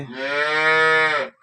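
A single long, loud cow moo, close by, rising and holding steady before tapering off at the end.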